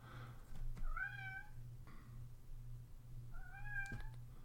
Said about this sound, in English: if you hear the meowing in the background